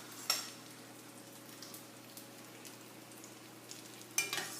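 Pork chops searing in a pan, a quiet steady sizzle with occasional louder crackles and pops, heard alone without talk.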